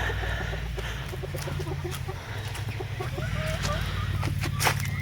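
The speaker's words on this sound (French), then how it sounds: "j'ai mon coq noir qui est en clapier, que je vais vous montrer tout de suite" A black rooster kept in a hutch clucks in short, repeated close bursts, with a few higher calls near the end, over a steady low hum.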